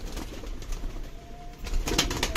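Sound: pigeons cooing

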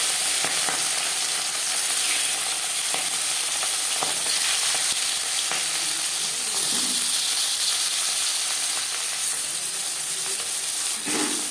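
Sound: marinated fish frying in refined oil

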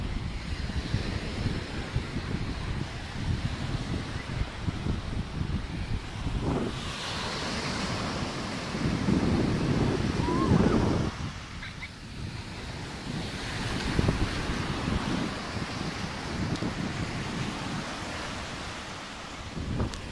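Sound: sea waves at Apúlia beach

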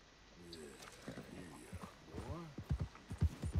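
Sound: horse galloping in video game Red Dead Redemption 2

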